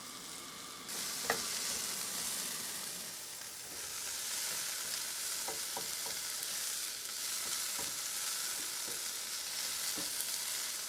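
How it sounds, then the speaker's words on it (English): Water boils hard in a saucepan, a loud, close, continuous bubbling hiss, broken by a few small clicks and knocks from the pan. "I'm having to boil water in this saucepan"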